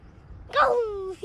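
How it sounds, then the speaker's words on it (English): A single dog gives one short, whining yelp that rises and falls, fairly close and clear, after a brief quiet lead-in with low background murmur. "They are barking at you."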